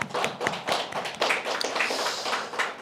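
A church congregation at a Korean Sunday service breaks into applause, a dense, steady patter of many hands clapping together across the room for about three seconds without pause.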